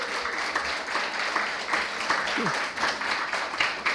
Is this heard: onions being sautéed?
no